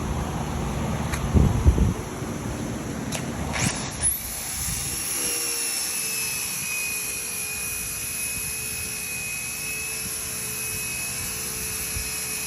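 A power tool shaves the bottom edge of a lexan window for an S10 race build. After a few handling knocks it spins up to a loud, steady, high whine that holds without a break.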